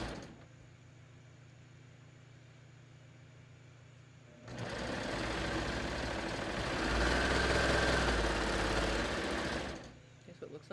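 A sewing machine stitches shoulder seams on a tee, starting mid-clip and running as a steady, close mechanical whir that speeds up briefly before stopping.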